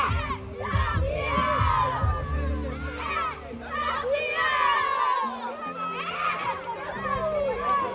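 Under-9 youth football players from Grêmio shout together in celebration as Série Prata champions at a Superliga final, a loud, boisterous crowd of young voices chanting and cheering in rhythmic bursts close by.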